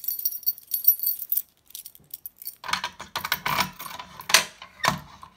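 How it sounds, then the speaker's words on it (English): A key jingles and clicks as it is pulled from a homemade fire alarm pull station, a run of light metallic rattles and taps up close in a quiet room. "So I'm gonna take the key out, set the pull station."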